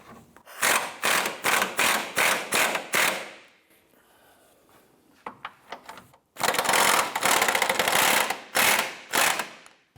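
Rapid clicking bursts from a 15mm gear wrench ratcheting on the front subframe bolts of a 2004-2008 Acura TL, close and loud in several runs separated by brief pauses and softer clicks.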